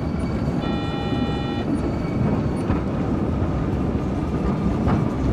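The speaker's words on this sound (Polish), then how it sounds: "Ja to tylko prowadzę tramwaj." A tram in Tram Simulator Urban Transit rumbles along its rails with a steady, dense rolling roar, a brief tonal whine near the start, and no voices.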